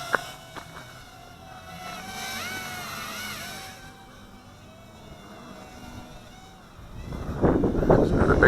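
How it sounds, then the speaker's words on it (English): A strong gust of outdoor wind buffets the microphone while a small LS121 Christmas-tree toy drone hovers, its thin motor whine rising and falling before a loud, rough wind roar swells near the end. "There's another big breeze."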